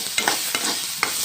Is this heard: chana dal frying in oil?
yes